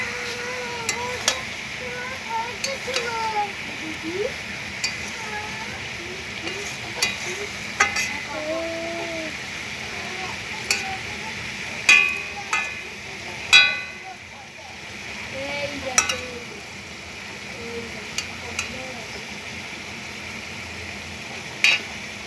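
Potato ghonto frying and being stirred in a pan over a gas flame, a soft continuous sizzle with scraping stirs, partly under a talking voice.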